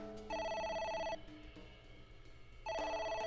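A telephone rings in the video game AI: The Somnium Files, two loud electronic bursts of trilling rings separated by a quieter pause, with no voices present.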